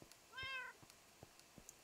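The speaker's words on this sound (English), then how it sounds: "There's a kitty cat." A cat in the video game Minecraft gives one clear meow, quiet but distinct, surrounded by a few faint clicks and taps in an otherwise hushed background.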